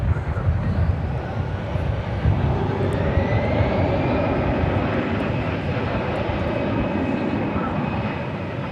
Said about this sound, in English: There's another American Airlines 777, which is on the move, and it looks like we'll be seeing it take off from over here as well.